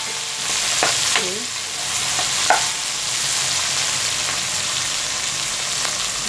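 Steady sizzle of spices, including cloves and bay leaves, frying in a pan, with a few clinks and scraping stirs over the hiss; no talking.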